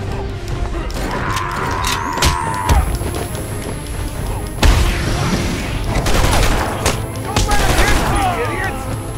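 Enemy gunfire in Batman: Arkham Asylum: loud rapid bursts of shots and impacts with a crash or two and sustained game tones, while a voice talks over the action.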